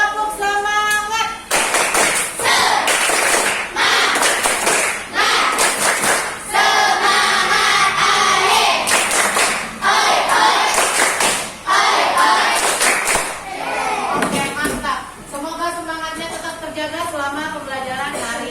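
A school class performs a rhythmic clapping chant, with bursts of loud, patterned claps interleaved with group voices chanting along over roughly eighteen seconds.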